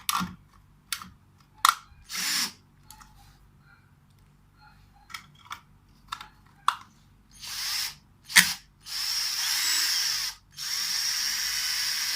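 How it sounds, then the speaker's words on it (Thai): A drill drives a wall anchor screw to fix a broken power socket, with short bursts and sharp taps followed by longer sustained whirring runs near the end, all close and fairly loud. "เดี๋ยวผมจะเจาะยึดให้ดู"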